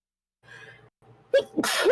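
A character's sneeze in the video game Cupid Parasite, with a sharp intake of breath, then a loud burst, after a soft musical passage; one close, clear sneeze.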